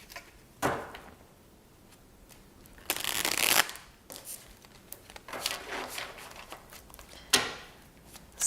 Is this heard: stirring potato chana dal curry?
no